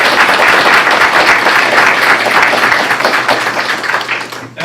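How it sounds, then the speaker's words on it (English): Audience at a city council meeting applauds staff, community partners and young program participants, a dense steady burst of clapping from a roomful of people that carries on loudly before thinning out at the end. "I do want to give a round of applause to staff, the community partners, and the young people that participated in this program"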